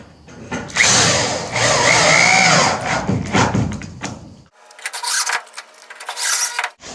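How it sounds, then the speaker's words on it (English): A power drill drives screws into the wooden wall of a small playhouse, sounding as several close, loud bursts of whirring and grinding that start and stop between quieter pauses. "Now I'm just going in and putting in the screws."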